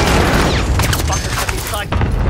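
Heavy incoming gunfire in the battle royale shooter Warzone, dense and loud throughout with overlapping shots and booms and no pause.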